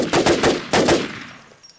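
Automatic gunfire in the survival shooter game Infestation rattles off in two quick bursts of loud shots, then a fading echo.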